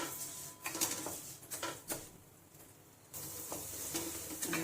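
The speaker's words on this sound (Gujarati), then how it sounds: "હવે એના ધીમા તાપે શેકી લઈશું." Broken wheat (fada) dry-roasting in a pan over a low flame for Surati lapsi: a light crackle and rustle of grains being stirred, broken by a few sharp scrapes and one brief quiet gap, close up.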